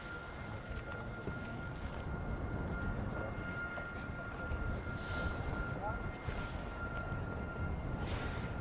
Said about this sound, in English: So I'm sure we'll see that aircraft come back around to land very shortly.